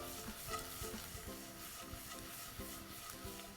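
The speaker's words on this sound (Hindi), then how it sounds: "प्याज को ब्राउन नहीं करना, हाई हीट पर 1 से 2 मिनट के लिए भूनना है।" Onions and turmeric fry over high heat in a pan, giving a steady close sizzle with repeated scraping stir strokes and no talking.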